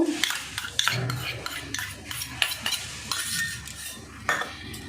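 Spoon stirring and mixing a semolina dish with roasted chickpeas in a pan, irregular scraping and light clinks of utensil against cookware, close and moderately loud, alone without talk.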